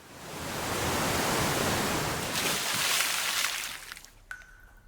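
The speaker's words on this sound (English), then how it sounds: "When they arrive at the bottom, water from the waterfall falls on top of them." Rushing water from a waterfall pours down as a broad, loud hiss that swells, holds steady, then fades away into a quieter, darker space with a faint tone.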